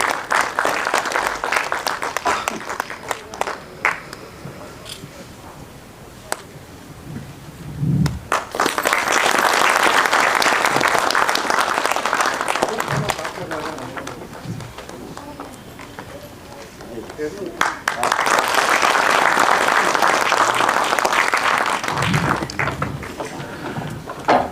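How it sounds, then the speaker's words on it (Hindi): Loud audience applause at a book launch in Dehradun comes in two strong bursts of clapping, each lasting several seconds, separated by quieter stretches with speech over a public-address system. "एक बार जोरदार तालियों से सभी लोग"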